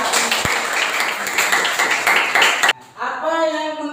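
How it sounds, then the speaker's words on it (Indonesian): Students in a classroom during an Islamic religious education lesson break into lively clapping for nearly three seconds, which cuts off abruptly before a voice begins speaking. "Tepuk tangan yang meriah."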